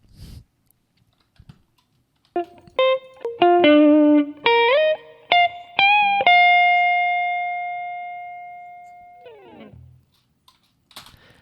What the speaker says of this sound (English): So I added the low reverb sounds to these guitars.